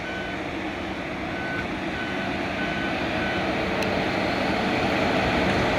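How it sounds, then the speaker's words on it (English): A work machine's reversing beeper repeats in a steady, evenly spaced pattern over a loud, continuous engine rumble, with no talking. "There's my beeper telling me, hey, go home."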